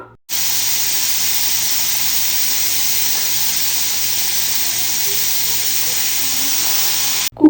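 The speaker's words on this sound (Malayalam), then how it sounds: "ഒരു വിസിൽ വരുമ്പോഴേക്കും കുക്കർ ഒന്ന് ഓഫ് ചെയ്ത് കൊടുക്കാം" A pressure cooker vents a loud, steady, high-pitched hiss of steam that runs unbroken for several seconds, then cuts off abruptly.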